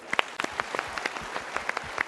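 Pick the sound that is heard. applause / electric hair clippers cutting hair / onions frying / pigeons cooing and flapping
applause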